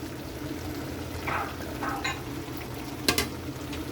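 Green and red chilies drop into a pan of laing simmering in coconut milk, giving a steady low sizzle and bubbling with a few soft stirring scrapes and a brief clatter near the end.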